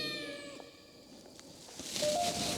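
A cat in a large mansion on the slopes of Bromo meows in a short, high, wavering call early on, then again more faintly amid steady background noise and a brief later tone.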